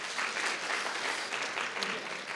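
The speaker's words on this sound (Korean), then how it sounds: "우리 아버지들을 위해서 우리 감사의 박수 한번 쳤으면 좋겠습니다." A church congregation claps together for the fathers during a Father's Day Sunday service. The applause is a steady, dense wash that keeps the same level for the whole stretch, with no talking over it.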